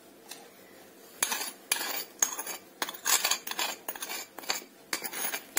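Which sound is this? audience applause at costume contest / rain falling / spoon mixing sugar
spoon mixing sugar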